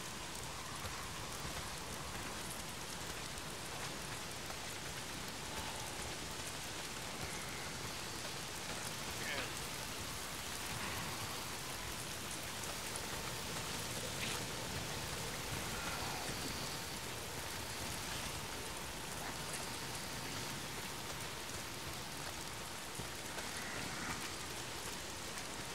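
Steady rain in the video game Days Gone hisses over the surface in a dense, constant wash, with faint, scattered drips and distant rumbles under it and no break for the whole stretch.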